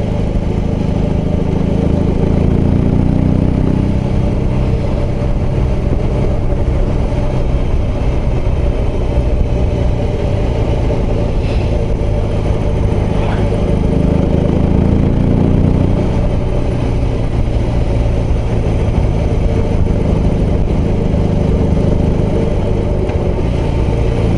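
A BMW R18 B bagger with its air- and oil-cooled engine runs steadily throughout, a loud, continuous low rumble that rises and falls slightly as the bike is ridden.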